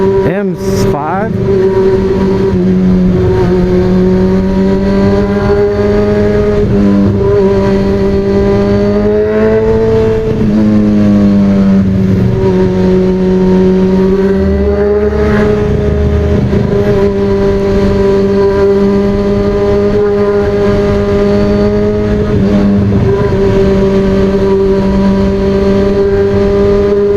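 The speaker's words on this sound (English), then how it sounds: "Pass by a car on my right hand side, it sounds like bees buzzing really fast." A steady engine drone fills the scene, with a higher buzzing vehicle whine rising and falling as a car passes close by, loud throughout.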